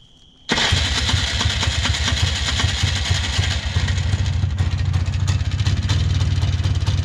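A four-wheeler ATV engine catches and starts, then keeps running roughly and barely idling, a loud, close, uneven sputtering drone with no talk.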